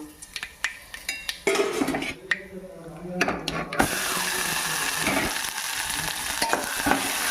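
Sizzling and frying of ridge gourd chutney in a pan with a spoon scraping and stirring, soft clinks early on, then a louder steady sizzle takes over.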